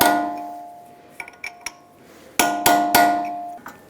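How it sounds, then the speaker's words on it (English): Metal punch struck by a hammer to stake a Toyota Camry axle nut: a few light taps, then three sharp, loud ringing blows close by, each with a metallic resonance, in a quiet workshop. "Using a hammer and a punch, stake the axle nut."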